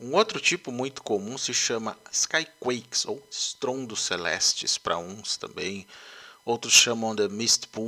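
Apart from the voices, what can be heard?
No everyday noises stand out.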